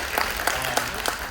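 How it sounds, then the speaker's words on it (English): Short, fairly quiet applause from attendees at a town hall meeting, a light scatter of claps over a low room hum. "Yeah, you can clap for that."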